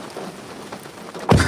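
Steady rain falls with a broad hiss, and a loud rumbling crack of thunder bursts in near the end.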